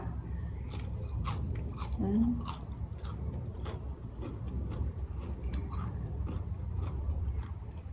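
Close-up chewing and biting of cooked wild mustard greens from a home-style pork curry, with soft, irregular crunches and mouth sounds repeating throughout over a low background rumble, plus a brief faint voice.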